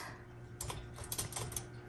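Clicks and ratcheting taps from the line selector on a 1937 Royal Model O typewriter, several quick mechanical snaps over about a second, close and fairly quiet.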